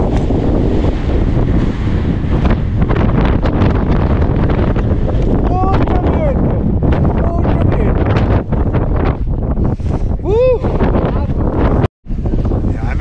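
Strong wind buffets the microphone at Paso Sico, a loud roaring rumble that stays constant for the whole stretch, with brief gusty dropouts and faint voices in the background.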